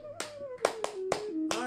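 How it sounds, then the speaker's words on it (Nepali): During an immunity exercise, a person claps five crisp, distinct times at a loose, steady rhythm while a voice speaks quietly underneath. "ताली ठोक्न सकिन्छ"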